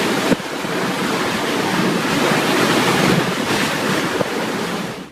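Typhoon Jelawat batters Okinawa with roaring wind and crashing waves, a loud continuous broadband rush with gusts buffeting the microphone, no voices.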